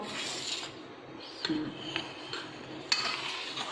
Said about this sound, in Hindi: अब इसमें डालेंगे ये खुश्क दूध और इसको मिक्स कर देंगे